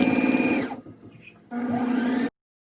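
A sewing machine runs loud and close while stitching the edges of a shawl, with a high, steady motor whine in two runs separated by a brief quieter pause as the fabric is turned. The sound then cuts to silence.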